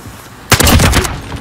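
Burst of rapid gunfire in a first-person shooter game, loud and close, a dense volley of shots lasting about half a second before trailing off into quieter game noise.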